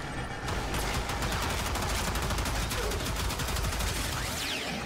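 Rapid bursts of automatic gunfire from a similar gun in the video game Warframe, loud and dense throughout, with a brief quieter lead-in before the shooting starts.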